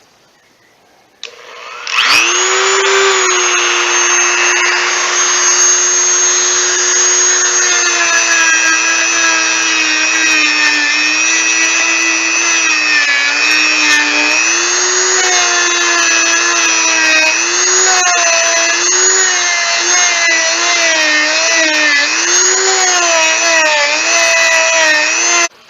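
Electric power tool sanding inside the body cavity of an electric guitar under repair, a loud continuous whining drone that holds steady for most of the clip with shifting pitch as the tool loads and eases.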